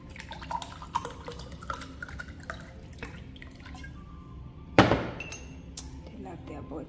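Water being scooped and poured with jars in a luxury hotel steam bath in the Seychelles, with sparse close drips and glassy clinks, then one sharp, louder splash midway, and faint voice sounds in the background.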